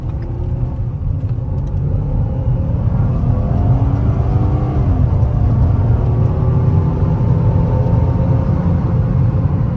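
A 2014 Ford Taurus SHO with all-wheel drive accelerates hard, its engine giving a loud, close, steady roaring drone with faint rising whine tones throughout, and no one speaking.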